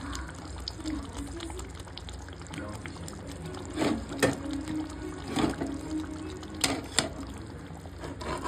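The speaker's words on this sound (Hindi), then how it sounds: "इसमें डालते हैं थोड़ा सा पानी" Water pours into a cooking pan of mashed food and peas in a home kitchen, a steady trickle broken by several louder splashes and clatters toward the end.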